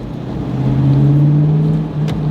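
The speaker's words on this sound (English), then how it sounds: "you can hear that motor behind you" Corvette C5 Z06 with stock exhaust accelerating hard in second gear, heard from inside the car as a steady, rising engine drone with no talk over it.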